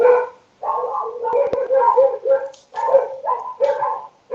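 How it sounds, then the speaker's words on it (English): A pack of dogs barking outside beyond an open back door, a string of loud, overlapping barks and yips in uneven bursts with brief pauses. "A load of dogs kicking off."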